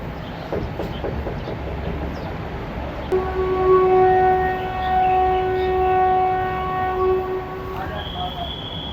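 Pakistan Express standing at Gujar Khan station in the Rawalpindi region, its whistle sounding as a sustained tonal blast from about three seconds in, over a steady station and engine rumble with faint background activity.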